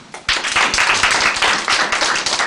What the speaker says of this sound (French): On t'applaudit très fort.